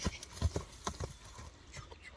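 A black horse's hooves clip-clopping on the ground, a few fairly faint, uneven steps heard close by with no talk.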